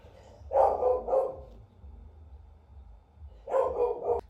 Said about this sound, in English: Dog's getting mental currently, so I'm just waiting for him to calm down.